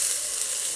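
Onion sizzles steadily in a hot pan as it caramelizes, a bright continuous hiss, close and loud with no voices.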